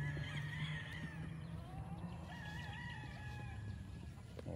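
Chickens and a rooster on a farm, with overlapping crowing and clucking at moderate distance over steady outdoor background noise, with no talk.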